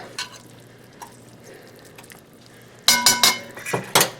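Sauteed onions drop into a pot of tomatoes for pot roast gravy, landing with a cluster of sharp, loud clinks and wet thumps near the end after a quieter stretch of faint kitchen noise.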